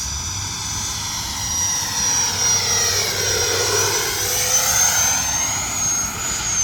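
An E-flite 80mm F-16 electric ducted fan model jet flies slowly overhead in calm air, its high, whining fan rising and falling steadily as it passes and banks, with no talking.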